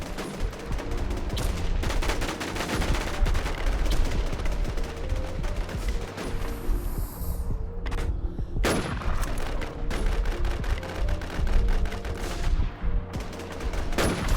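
Rapid gunfire in the video game Warz, loud close bursts of automatic shots in quick rhythmic volleys, broken by short pauses and louder single cracks, continuing through to the end.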